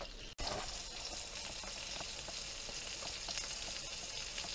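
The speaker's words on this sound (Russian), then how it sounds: "Рыбка скворчит." Constant crackling sizzle of fish frying in hot oil, with small pops scattered throughout, steady and close.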